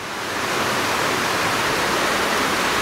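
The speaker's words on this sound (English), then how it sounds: "It's not the kind of waterfall you want to jump off of." Steady, dense rush of falling water from a waterfall above a swimming hole by a large horizontal rock, loud and close, filling the whole clip without voices.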